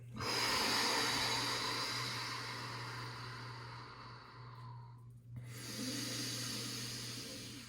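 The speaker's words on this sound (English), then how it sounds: "Ten deep breaths here." Deep, slow yoga breathing is heard up close: a long, airy inhale-exhale stretching over several seconds, a brief pause, then another drawn-out breath, all without talk.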